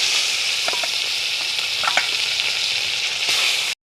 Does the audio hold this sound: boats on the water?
no